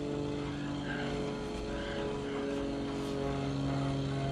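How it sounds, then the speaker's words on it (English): A propeller airplane passes overhead high above the clouds in open countryside, its steady droning engine hum filling the whole stretch at even loudness, with no talking. "What is that, an airplane?"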